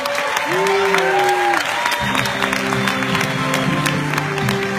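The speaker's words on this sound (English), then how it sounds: "give yourself a round of applause." An audience at a business seminar in Orlando applauds steadily, a continuous wash of clapping with some cheering, while music plays and a voice carries over the top.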